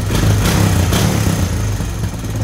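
A Honda Recon 250 ATV engine, loud and close, revs up in a couple of quick bursts after carburetor cleaning, then settles back toward a rough idle.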